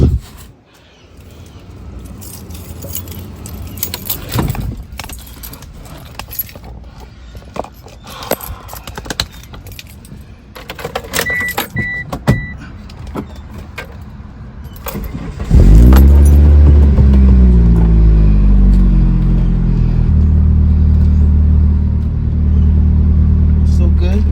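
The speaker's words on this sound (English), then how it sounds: "I'm about to start the car up and see what happens." A Mitsubishi Eclipse 420a, just repaired after fuel pump and alternator work, cranks and fires up, then settles into a loud, steady idle with some revving, preceded by keys jangling and handling noises close by.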